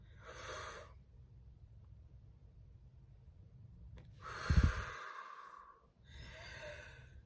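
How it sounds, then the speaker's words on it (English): A person breathes in and out deeply, making three slow, airy breaths close by with quiet gaps between them. "So now we're going to breathe in and breathe out to get our day started."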